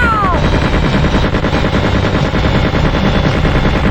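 A-10A Thunderbolt II cannon in the Fighters Anthology flight game fires in one loud, continuous rapid burst, a dense rattling roar lasting the whole stretch with no pauses.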